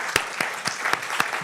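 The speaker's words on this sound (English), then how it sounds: "Can we have a little round of applause for our brave volunteer?" Scattered, sparse clapping from a small audience, a few separate claps spaced out over a second and a half rather than a full ovation.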